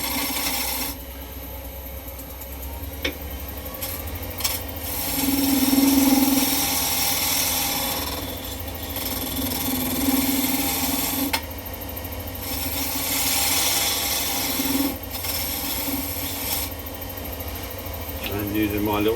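A wood lathe turns a box lid while a gouge cuts a small tenon on its end, giving a steady rasping scrape with brief louder bursts of cutting over the constant hum of the spinning lathe, with talk over it.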